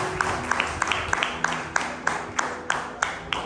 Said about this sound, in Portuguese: aplaudindo ao Pai, ao Filho e ao Espírito Santo de Deus.